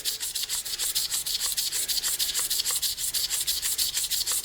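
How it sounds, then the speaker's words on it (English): Sandpaper rubbing rhythmically over a turned blank spinning on a lathe, a close, steady scratchy swish pulsing many times per second without pause and no voices. "I've got those same circular scratches going through the blank, and I want to sand those out."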